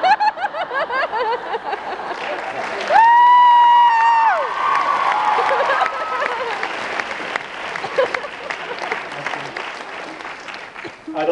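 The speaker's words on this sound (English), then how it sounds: "I'd like to accept those applause on my behalf" An audience at a talk by an author breaks into applause mixed with laughter and cheering, dense clapping building and then thinning, with voices and a brief whoop rising above the crowd.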